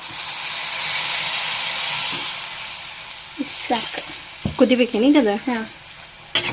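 Water goes into a pan of sizzling spiced flour curry, a loud steamy hiss and frying sizzle that gradually fades as a voice begins speaking over the cooking.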